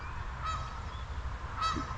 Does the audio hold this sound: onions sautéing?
no